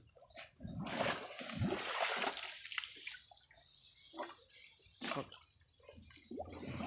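An animal splashes its legs about in muddy water, with irregular bursts of splashing and sloshing at close range and quieter pauses between.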